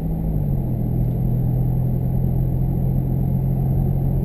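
A Chevrolet Camaro SS convertible's 6.2-litre 406-horsepower V8 rumbles close by with a deep, steady tone that swells slightly as the revs rise and then settles into a constant growl.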